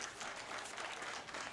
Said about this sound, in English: Let's give a round of applause for Landon.